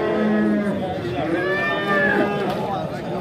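A cow lets out a long, loud, drawn-out moo at a busy livestock market in Mastchoh, close by, with voices talking over and around it.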